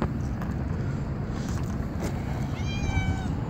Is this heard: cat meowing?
yes